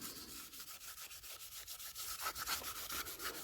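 Plastic reflectors from a Jaguar XK8 being scuffed by hand with an abrasive, a steady rapid back-and-forth rubbing that stays close and even throughout, with no talking.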